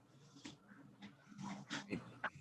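A dog whimpers and whines nearby in a quiet indoor room, a string of short soft cries and breathy pants rising and falling in uneven bursts.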